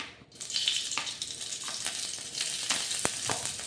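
Green chili hits hot oil in a pan for a masala mushroom dish, setting off a steady crackling sizzle with sharp pops and spits throughout.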